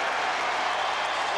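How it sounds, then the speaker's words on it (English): A basketball arena crowd roars steadily during a college game between Iowa State and Kansas at Hilton Coliseum in 2004, a dense, continuous wash of cheering with no break across the short stretch. "Well, listen to the crowd."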